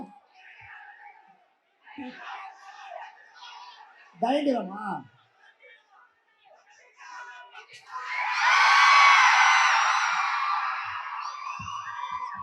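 Fans at a film event shouting, cheering and whooping loudly for several seconds after scattered talk and laughter, a broad crowd roar that builds and then tapers, with a voice speaking in Tamil over it.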